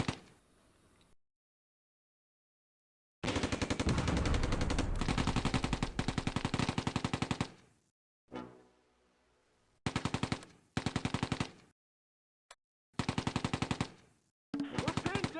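Bursts of automatic machine gun and rifle fire in the WWII video game Close Combat, set during Operation Market Garden. Loud, rapid volleys cut off into silent gaps, with short separate strings of shots near the end.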